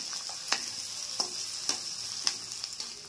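Thinly sliced onions frying in oil for mutton curry make a steady, moderate sizzle, broken by sharp spatula scrapes and taps about every half second.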